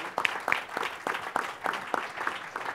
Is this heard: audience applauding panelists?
yes